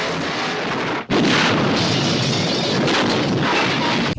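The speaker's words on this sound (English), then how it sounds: "it made the car explode" A car blows up in the 1964 film Goldfinger: a dense, roaring blast begins, cuts out briefly, then comes back as a long rumbling burst that fills the whole clip.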